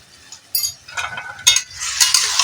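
Papaya lemon chutney being stirred in a pan with a spoon, with scraping, light metallic clinks and a soft sizzle rising toward the end, close by and without talk.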